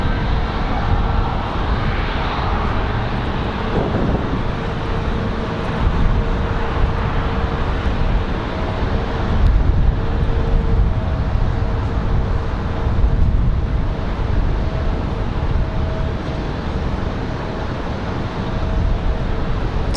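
Boeing 737 MAX airliner arriving at RDU on a windy day, a steady broad engine roar with low wind rumble that holds throughout, with no voices.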